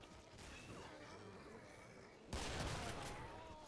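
Rapid gunfire in the game Killing Floor, a gun shot as fast as a mouse can be clicked, dense overlapping cracks and impacts that jump louder partway through.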